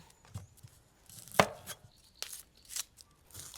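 Garlic cloves and shallots being chopped with a knife, unwashed, to go into a swan soup: a series of irregular close, sharp knife strikes on a board, one stroke much louder than the rest.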